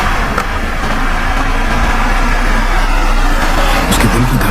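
A car engine runs with a steady, continuous drone, the roar holding level throughout with no voices.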